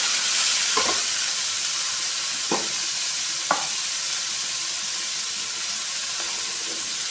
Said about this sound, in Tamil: இது எல்லாத்தையும் சேர்த்து நல்லா கலந்து விட்டுருவோம்